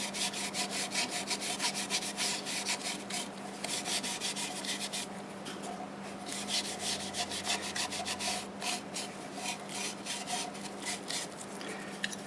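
Steady, continuous rubbing of sanding sealer onto a turned cherry wood bowl, a dry, scratchy swishing that keeps going without pause, close by with no talking.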